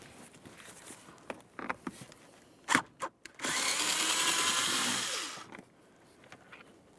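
Cordless power tool spinning out 7mm mounting screws beneath the dash panel of a 1999-2006 Chevrolet Silverado 1500. A few short clicks and knocks come first, then a sustained whir of about two seconds, close up, with no talking.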